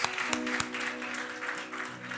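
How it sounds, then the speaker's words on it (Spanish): Congregation applause at a Spanish-language church service, a steady wash of clapping with a few sharper claps standing out, under low organ or keyboard tones and a voice. "Demos un aplauso al Señor"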